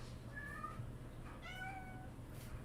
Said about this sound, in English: My cat Mimsy likes to meow really loudly.